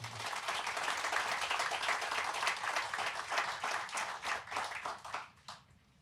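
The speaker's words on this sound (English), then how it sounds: "Let's give them a round of applause." An audience at an outdoor groundbreaking ceremony for a distribution center in Springfield, Ohio applauds the team, dense sustained clapping that stays loud for several seconds before tapering off near the end.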